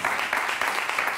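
A studio audience on a Spanish television talk show gives a short burst of dense, even applause to welcome a rhythmic gymnastics champion.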